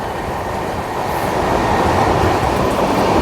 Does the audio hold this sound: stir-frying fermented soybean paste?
no